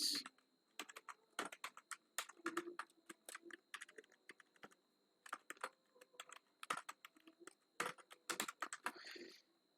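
Fingers type on a computer keyboard while HTML code is entered, sharp clicking keystrokes arriving in irregular quick bursts with short pauses, close and clear with no talking.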